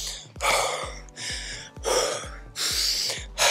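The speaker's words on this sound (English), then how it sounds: "How I'm breathing right now? I'm out of breath." Heavy, laboured breathing of a person out of breath after soccer stamina training, with loud gasping inhales and exhales repeating roughly every second, close and alone without talk.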